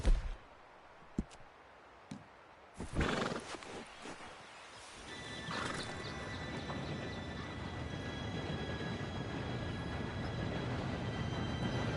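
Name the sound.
train approaching in Red Dead Redemption 2 video game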